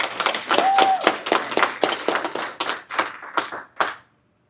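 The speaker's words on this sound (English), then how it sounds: "I'm actually clapping for myself" A single person claps their hands at a conference, a steady run of sharp, close claps with uneven spacing that slows toward the end before stopping, with no voices over it.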